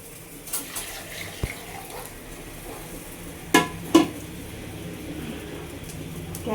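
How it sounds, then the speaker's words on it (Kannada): Water splashes into a hot tempering pan in a home kitchen, a steady running-water wash with a few sharp clattering hits of the pan, fairly close, no talking. "ಒಗ್ಗರಣೆ ಒಳಗೆ ನೀರು ಹಾಕ್ತಾಳೆ"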